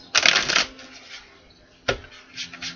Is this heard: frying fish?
no